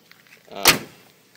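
A grey Buick's car door swings open and knocks against something, one short solid thud with a brief rattle and no talking.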